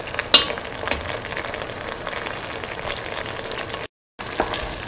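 Eggs fry in a pan with a steady, moderate sizzle, a sharp utensil knock near the start and a few soft stirring scrapes, briefly cutting to silence near the end.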